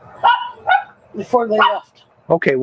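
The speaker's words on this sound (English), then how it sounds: "That dog in the background is barking that other dog." A small dog barks in the background several times in short, uneven bursts, with a person speaking over it in the foreground.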